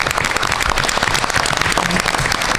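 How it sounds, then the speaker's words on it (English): Dense, loud applause from attendees at a board of education meeting, continuous clapping filling the room without pause. "So let's have a round of applause for those."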